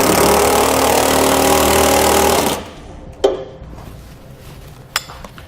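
A socket tool, likely an impact driver, rattles loudly while tightening bolts with a 3/4 inch socket on TorkLift tie-downs on a 2018 Ram 3500. A sustained burst of about two and a half seconds cuts off, followed by a few faint metallic clinks.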